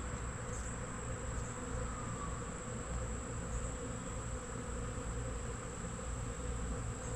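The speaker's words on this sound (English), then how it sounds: "Happy, fat bees." Honey bees buzzing around the hives of a ranch apiary, a continuous, even drone of many wings holding steady throughout, fairly quiet and with no voices over it.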